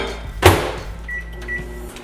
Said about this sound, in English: While we wait for the microwave.